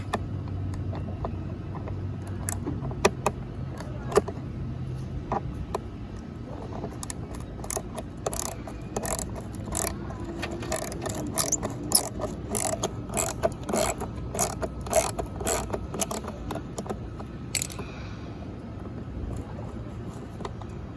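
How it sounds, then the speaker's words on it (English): A 1/4-inch ratchet works loose a fog light housing screw under the front of a 2006-2011 Cadillac DTS, giving rapid, close, sharp clicking bursts that repeat in an uneven rhythm over a low background hum. "1/4 inch ratchet. And the first screw's right here underneath. So you grab it and you start taking it off."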